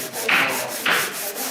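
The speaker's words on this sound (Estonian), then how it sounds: "sa lihvid pikki kiudu" Two slow, rasping strokes of sanding along the grain of a wooden parquet floor, each a soft scraping rub, heard close up with no voices.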